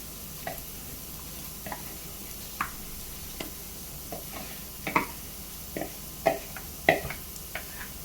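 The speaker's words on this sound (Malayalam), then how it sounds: "അരി നമുക്കൊന്ന് ഇളക്കി കൊടുക്കാം, അല്ലെങ്കിൽ അരി അടിയിൽ ഒട്ടിപ്പിടിക്കും" Rice being stirred in a pot of boiling water, heard as sparse, soft scraping clicks and light knocks at an uneven pace, fairly quiet over a low simmering hiss.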